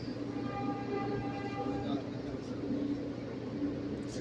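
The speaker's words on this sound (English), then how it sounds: "when this train passes by, the other train will come over" A train passing by, heard as a steady, close rumble with sustained tonal whine layered over it, continuous throughout, while a person speaks faintly under the noise.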